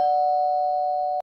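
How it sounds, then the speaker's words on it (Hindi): A single sustained electronic tone rings steadily for about a second, then cuts off abruptly. "तभी डोरबेल बजता"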